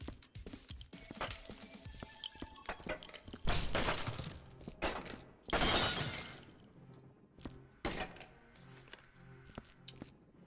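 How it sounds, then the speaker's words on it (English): Glass shatters in the cleanup game Viscera Cleanup Detail, several sharp crashing breaks with tinkling debris and scattered thuds, one big burst around the middle standing out against a quiet background. "Glass broke inside the thing."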